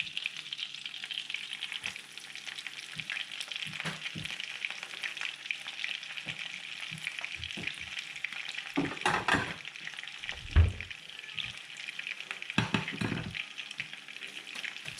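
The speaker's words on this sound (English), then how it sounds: "So the official time of frying the schnitzel is until it's golden." Wiener schnitzel sizzles and crackles steadily in hot oil, with occasional clinks and scrapes of stirring throughout.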